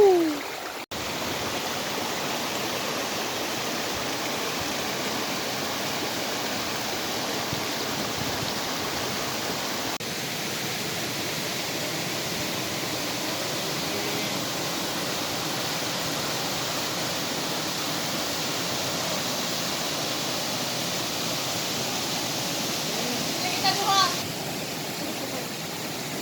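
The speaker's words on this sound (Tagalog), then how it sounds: "So tura mini falls." A small waterfall spills over a rock formation at Sicao Falls, producing a steady, broad rushing hiss that continues unbroken, heard up close without talk.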